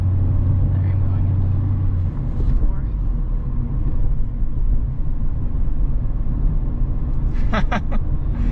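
A 2021 Mazda MX-5 Miata with a manual stick shift, its engine a loud, continuous close-up rumble that drops pitch as a gear changes early on, then drones steadily with brief higher clatters near the end.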